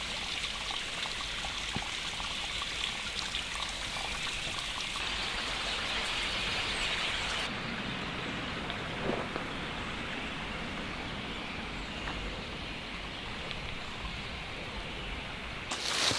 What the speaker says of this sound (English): I'm leaving the creek here, Steel Creek